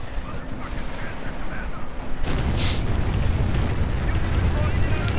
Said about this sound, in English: Luftwaffe troops getting blasted to bits.